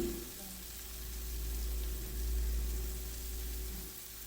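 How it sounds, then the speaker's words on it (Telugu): Grated paneer being mixed through a sizzling pan for paneer bhurji, a steady close frying hiss with a low rumble beneath and faint stirring scrapes, no voices. "బాగా కలుపుకున్న తర్వాత పన్నీరు తురుమును వేసుకొని బాగా మిక్స్ చేసుకోవాలి."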